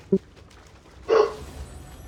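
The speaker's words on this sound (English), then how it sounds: "the dog's still louder than you" A dog gives a couple of short barks close to the microphone, a quick yip early on and a louder, fuller bark a second later, with quiet room noise between.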